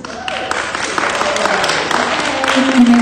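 Audience applause at a public hearing on a coal terminal, a crowd clapping steadily and fairly close throughout, with voices talking over it.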